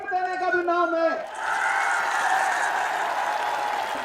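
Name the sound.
audience applause at a political speech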